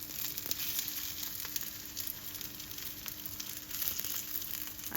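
A black bean and barley veggie sandwich filling fries in a pan with a continuous close sizzle, dotted with light crackles and occasional soft scraping.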